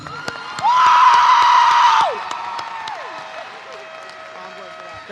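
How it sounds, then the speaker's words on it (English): A high school graduation audience breaks into applause with cheers and whoops, a loud burst lasting about a second and a half over a sustained tone, then settling into faint crowd murmur. "Again, can we have a round of applause"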